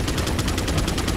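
Rapid machine-gun fire in Resident Evil 4, a fast, evenly spaced stream of loud shots, about a dozen bursts in quick succession with no pause.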